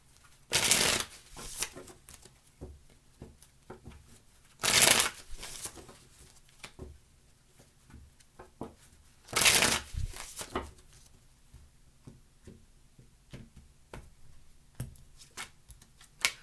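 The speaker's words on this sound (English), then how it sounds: "Two more shuffles. No, three more." Tarot cards are shuffled by hand in three distinct bursts of close, crisp riffling, separated by quieter stretches of soft card taps and handling.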